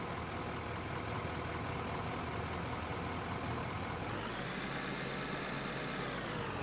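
A mining vehicle's engine runs steadily in the game Out of Ore, a low continuous drone. Partway through, the engine note shifts lower and smoother, then carries on without a break.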